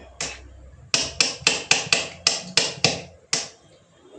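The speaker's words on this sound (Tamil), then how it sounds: "தேங்காவை கட் பண்ணிக்கலாம்." A coconut struck and chopped with a blade in a home kitchen: nine or ten sharp, close knocks, mostly evenly spaced with a short pause near the end, loud and alone.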